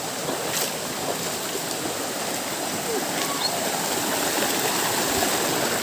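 Water of Purikot Falls, a waterfall tourist spot in Libmanan, rushes in a continuous broadband hiss, steady and fairly near, with no talk over it.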